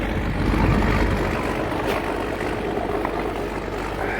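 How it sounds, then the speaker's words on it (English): A tractor engine runs steadily on a farm while organic soybeans are loaded, a continuous low rumble at moderate level with no talk over it. "Okay, that tractor started."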